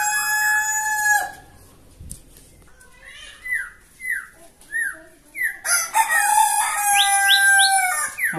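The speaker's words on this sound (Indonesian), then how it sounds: "ada suara kokok ayam, jadi di sini nah, seperti itu ayam ekor panjang ya" A long-tailed rooster crows loudly and close by, several drawn-out calls, amid the chirping and whistling of caged songbirds, including a white-rumped shama, in a yard of birds and chickens.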